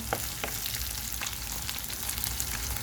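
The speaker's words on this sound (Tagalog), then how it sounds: "iprito ko ulit para masarap kasi I like chicken crispy chicken" Shredded adobo chicken re-fries in a pan for crispness, a close, continuous sizzle with scattered pops and crackles and a few stirring scrapes, with no voices.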